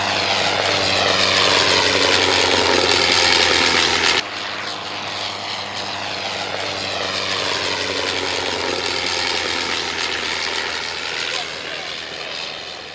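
A Sopwith Pup biplane with an 80 hp Le Rhône 9C rotary engine flies past, its steady propeller drone loud and close for about four seconds, then dropping slightly and holding at a lower level as the aircraft moves away.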